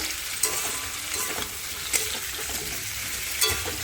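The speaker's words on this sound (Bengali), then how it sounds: "একসাথে নাড়া দিয়ে নিচ্ছি দিয়ে আলুর সঙ্গে টমেটোর সাথে ভেজে নেব একটু ভালো করে" Potato and tomato frying together in a pan, a soft steady sizzle with occasional spoon scrapes as they are stirred, close but quiet.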